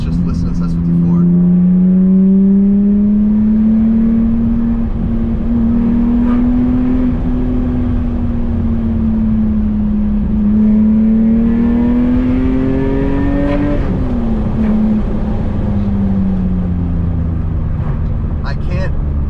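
An S54 straight-six swapped into a BMW E36 drones steadily under load, its pitch slowly climbing and then dropping, loud and close, with a voice talking over parts of it.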